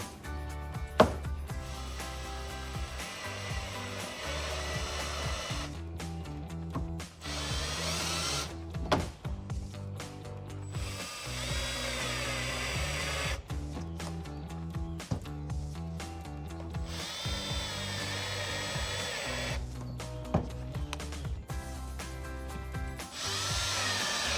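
A power drill drives five screws into a gloss black SpeedForm chin spoiler lip on a 2015–2017 Mustang, with repeated close whirring bursts separated by brief quiet gaps.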